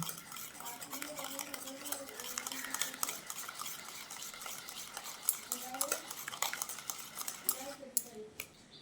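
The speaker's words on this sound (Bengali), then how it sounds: "নারকেল কোড়াটা দিয়ে আরও একবার মিশিয়ে নিচ্ছি" Grated coconut being stirred into a yogurt, milk and sugar mixture with a spoon scraping a bowl, soft repeated clinks and scrapes at close range, with brief faint talk in the background.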